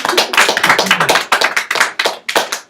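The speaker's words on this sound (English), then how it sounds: "Second round of applause." Classmates give a round of applause in a school class, loud close-up clapping with sharp, rapid, fairly regular claps throughout.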